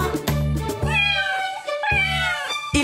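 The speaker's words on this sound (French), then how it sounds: "Il miaule toute la journée dans la drôle de ferme de Papy Henri" A cat on a farm meows several times in quick succession, close and loud, with drawn-out rising and falling cries and no talking.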